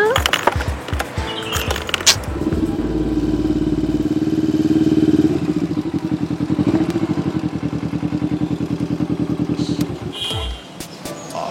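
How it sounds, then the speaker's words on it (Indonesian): A stalled motorbike's engine sputters and clatters as someone tries to restart it, settling into a rapid, uneven chugging that rises and falls over several seconds before cutting out. "kenapa sih nih motor kok mogok sih?"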